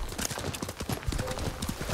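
A horse's hooves clip-clop in an irregular rapid gait in the game Ghost of Tsushima, close and fairly loud over a busy game soundscape.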